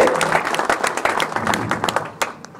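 At a Hindi kavi sammelan poetry recital in Pichhor, Jhansi, a crowd claps loudly. The applause is crisp and dense with sharp individual claps, and a voice is heard faintly within it.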